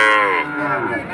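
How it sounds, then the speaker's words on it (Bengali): A young bull calf at a cattle market lets out one loud, drawn-out moo close by, its voice dropping in pitch and then holding steady. "নিখুঁত গরু, নিখুঁত একটা এড়ে গরু"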